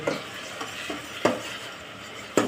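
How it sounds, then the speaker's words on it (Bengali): Garlic paste being stir-fried in a pan for a Bengali chicken roast: a steady low sizzle broken by periodic scrapes and knocks of a spatula stirring against the pan, about five strokes, close and alone. "রসুন বাটাগুলো দিয়ে এটা একটু কষিয়ে নেব"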